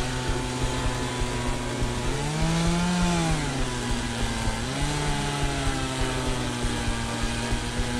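A chainsaw engine drones loud and close throughout a Leatherface horror video game chase through the woods, revving up and easing back down in pitch in a continuous harsh buzz.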